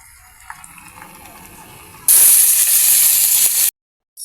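Spices hit hot cooking oil for sinigang na baboy, bursting into a loud bright sizzle after a quiet start, holding for over a second before cutting off abruptly.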